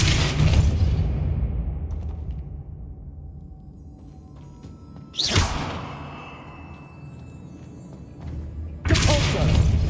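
In Hogwarts Legacy, the Depulso spell lands as heavy whooshing thuds, with a loud burst at the start, another blast midway and a third at the end, each fading into a rumbling tail.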